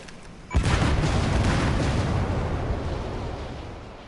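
A separator tank blows up in Metal Gear Solid 5 with one sudden loud blast, then a long rumbling roar that slowly fades.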